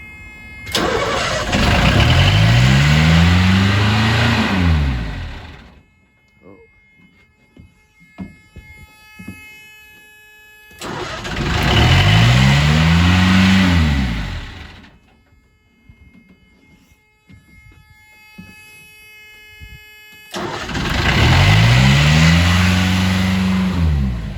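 A BMC 1.5 diesel engine with refurbished injectors cranks and catches three times in a row, each start rising into a loud rev before cutting out, with quiet pauses between.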